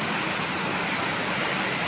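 Large creek beside an old Japanese imperial tunnel, its water rushing in a loud, steady, broadband wash, close and unbroken throughout with no voices.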